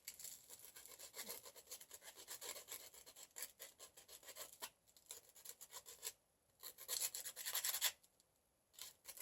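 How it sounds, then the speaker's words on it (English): Seeds being lightly sanded around their edges by hand for seed starting: soft, close, dry rasping strokes in quick repeated bursts, with brief pauses between passes and no voices. "What you want to do is just lightly sand the edges."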